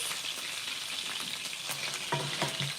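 Lamb burgers sear in a hot pan, giving a dense, constant sizzle close up, with a few soft knocks and scrapes near the end and no voices.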